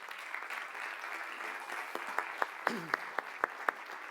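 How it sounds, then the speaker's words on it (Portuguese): An audience at a panel event applauds as speakers are called up to the stage, with broad steady clapping and a few distinct louder claps standing out near the end. "Para eles todos, peço um forte aplauso e subam ao palco"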